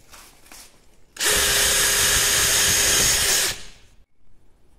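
A DeWALT DCD791 cordless drill in second gear bores into a 3.5 mm thick metal box, whirring loud and steady for about two seconds before it winds down.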